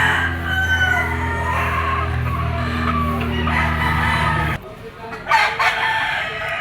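A sweater gamefowl rooster of Gilmore bloodline crows loudly and close, one long harmonic call lasting several seconds, followed by a brief pause and some softer clucking and rustling.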